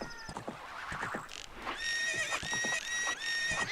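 Neighing horse in Ocarina of Time, a loud whinny with clip-clopping hooves, repeated several times close up over a steady game backdrop.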